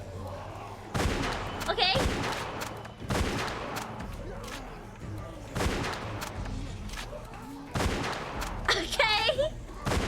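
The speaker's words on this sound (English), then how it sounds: "Because I'm just shooting at them." Repeated bursts of gunfire in The Walking Dead video game, several sharp volleys spaced across the span with a player's voice talking in between.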